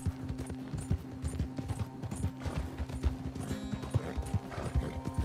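Rapid galloping hoofbeats of a horse in Red Dead Redemption 2 Online drum steadily and close, over a low steady hum, with no pause in the rhythm.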